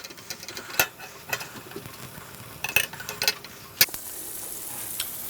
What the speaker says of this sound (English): Just on a low heat, just let it sort of sizzle a bit.